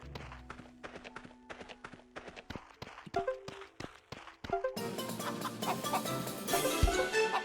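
Chickens clucking in the farming game Potion Permit, a run of short repeated clucks and game footsteps over background music that grows fuller and louder partway through.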